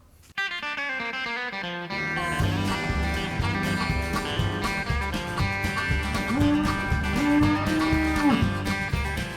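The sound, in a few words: cows mooing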